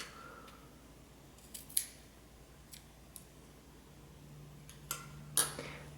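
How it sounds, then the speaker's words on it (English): Scissors snip yarn tails during a crochet project, with a few sharp, quiet clicks scattered over the clip and soft handling noise between them in a quiet room. "We can go ahead and cut this yarn tails."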